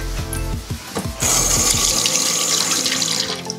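Tap water runs steadily into a sink during a face-rinsing step of a skincare routine, loud and continuous after a brief lead-in of splashing.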